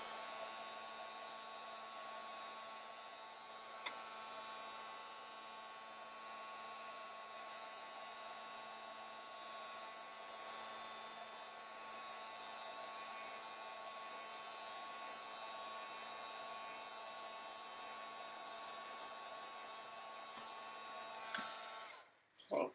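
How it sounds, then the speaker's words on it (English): A heat gun blows steadily on layers of paint on a mixed media Christmas frame, a continuous fan whine and airy hiss held for about twenty seconds before switching off with a clunk. "I just go ahead and take my heat gun really quick"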